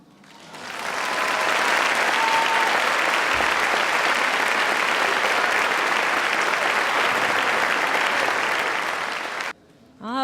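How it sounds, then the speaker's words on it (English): A big crowd at a school district staff convocation bursts into applause after a speech, swelling within a second into a loud sustained roar of clapping that holds steady, then cuts off abruptly near the end. "Can we give her another big round of applause for sharing that?"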